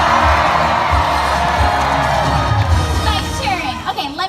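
Loud audience cheering and shouting, with many children's voices, fills an animal actors show just before a dog audition, holding steady across the stretch and then tapering slightly at the end.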